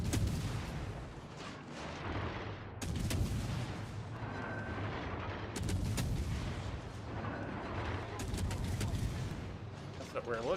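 Video game gunfire: dense bursts of shots and heavy booms crash in repeatedly over a steady rumbling background, with a voice faintly present in the mix.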